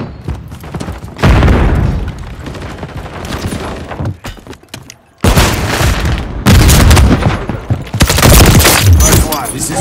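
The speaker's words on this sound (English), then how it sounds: "Grenade!" Grenade explosions and gunfire in the video game Call of Duty Modern Warfare 3, loud booming blasts and bursts of shots in two heavy waves separated by a brief near-silent gap, with voices heard amid the combat.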